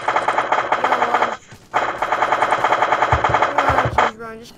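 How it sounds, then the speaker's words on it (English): Rapid automatic gunfire from a crazy gun in the Minecraft Crafting Dead zombie mod. Fast, even bursts rattle continuously, break off briefly, then resume, with a voice faintly underneath near the end. "Run, just keep shooting."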